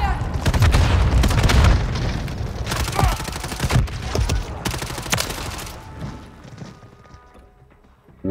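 Gunfire in the zombie-mode video game DMZ: rapid bursts of loud, close shots and booming impacts in quick succession, easing into fainter scattered shots and quiet before a final sharp blast.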